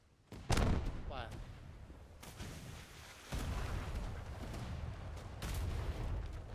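Ship cannons in a naval battle game boom in a heavy close volley, one sharp blast followed by further rolling shots, under shouted voices of players.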